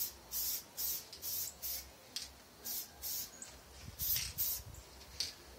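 Spray paint hisses from an aerosol can onto an RC car body in repeated short bursts, about a dozen light passes separated by brief pauses, close and clear.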